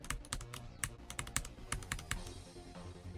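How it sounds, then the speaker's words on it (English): Computer keyboard keys pressed rapidly during Geometry Dash play, sharp close clicks in quick uneven bursts and rhythmic runs, fairly quiet, with a soft background hum and no talk. "It's a weird feeling playing on keyboard"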